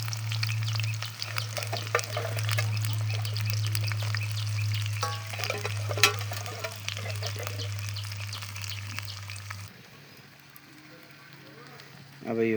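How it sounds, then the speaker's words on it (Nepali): Sliced onion and green chilli frying in hot oil for a village chicken curry, a crackling sizzle with scattered stirring clicks over a low steady hum, quieting sharply near the end before a brief loud burst. "अब यो प्याज र खुर्सानी यसरी चाहिँ हामी फ्राई गर्छौँ।"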